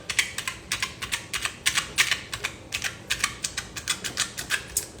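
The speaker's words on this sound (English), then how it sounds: "I got to poke these holes in this hookah. So I'm using my earring." Repeated sharp metallic pricks and taps as an earring pokes holes through hookah foil, a steady rapid series of close, crisp clicks with no talking.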